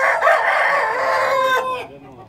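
A rooster crows loudly and close by beside a coop of chickens, one long drawn-out call lasting nearly two seconds before fading into quiet.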